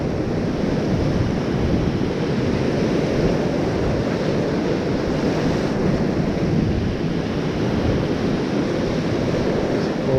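Mediterranean sea waves washing against the shore, a continuous loud rumbling surf with steady wind buffeting the microphone and no voices.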